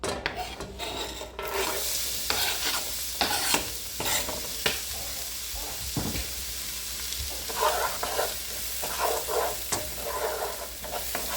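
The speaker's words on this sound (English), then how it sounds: "We'll get some olive oil in the pan. And now we'll push all of our vegetables in." Vegetables hitting hot olive oil in a pan and being stirred, a close steady sizzle broken by scraping and stirring strokes, with no talking.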